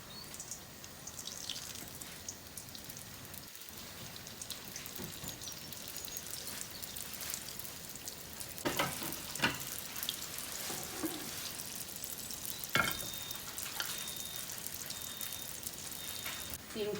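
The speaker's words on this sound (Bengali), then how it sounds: "এইগুলা সেকে নেই।" Samosas and spring rolls fry in a pan in a home Bengali kitchen, giving a steady broadband bubbling sizzle with scattered crackles and pops that grow a little louder and busier toward the end.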